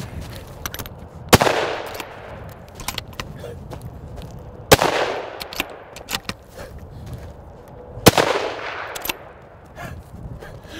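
Three loud, sharp gunshots ring out a few seconds apart as shooters fire at a plate while sighting in outdoors, each blast trailing off in a decaying echo, with quieter clicks and handling noises between them.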